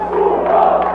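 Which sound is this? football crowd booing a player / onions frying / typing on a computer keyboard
football crowd booing a player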